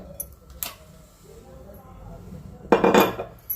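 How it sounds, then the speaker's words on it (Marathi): A metal cooking pot set on the stove to heat for oil gives a couple of sharp, brief clinks against a quiet kitchen background. "पातेला ठेवले गरम करायला तेल टाकूया"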